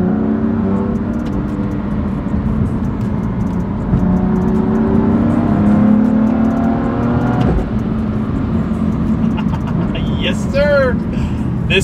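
Car accelerating hard, the engine note climbing steadily and dropping at abrupt, harsh gear shifts, loud and close from inside the cabin.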